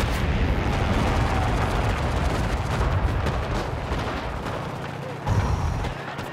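A loud battlefield explosion in the WW2 shooter Enlisted, a heavy rumbling blast among dense crackling gunfire that runs throughout, with a second sharp burst near the end.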